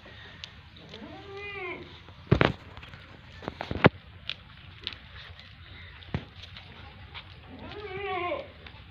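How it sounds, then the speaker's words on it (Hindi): Goats in a shed on a goat farm bleat in two drawn-out, wavering calls near the start and end, with scattered knocks and rustles between them. "माशाल्लाह बहुत हाई क्लास की बकरियां हैं।"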